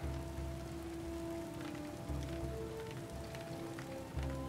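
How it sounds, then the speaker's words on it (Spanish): Steady rain patters throughout a Skyrim play session, a continuous soft wash of drops with a low looping drone underneath and no voices. "Hay que poner el casco, que está lloviendo."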